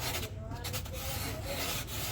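A hand file rasps lightly over high-density material in continuous back-and-forth strokes, a dry close-up rubbing with no pauses and no talk over it.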